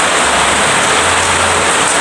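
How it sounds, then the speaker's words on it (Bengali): Heavy downpour from a clouded sky near a house, a loud continuous wash of rain hiss with a faint low rumble underneath, with no talking. "আবার মেঘ করে এখন ঝেপে বৃষ্টি হচ্ছে"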